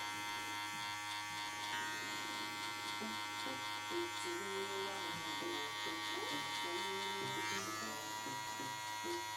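Electric hair clippers with a bare blade cutting hair during a skin fade in a barbershop, a steady close buzz with a shifting pitch as the blade moves, a voice talking over it.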